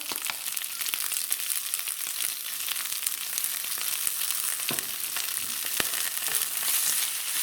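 Mashed sweet potato purée being stirred and mixed with salt and pepper for gluten-free, lactose-free gnocchi, a continuous close wet squelching and scraping texture with occasional sharper clicks, steady throughout with no talk.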